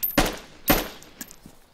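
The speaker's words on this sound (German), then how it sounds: "Ja, ich hab den Schuss gehört." Gunfire in the video game DayZ: two sharp, loud shots about half a second apart, each with a short echoing tail, followed by a couple of fainter, distant-sounding cracks.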